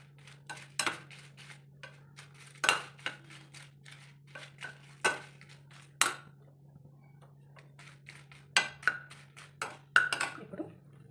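Dry red chillies roasted in a pan over a steady low hum, with scattered metallic clinks and scrapes of a utensil against the pan, close and fairly quiet, no talking.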